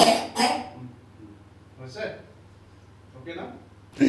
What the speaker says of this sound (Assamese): কাহ হৈ আছে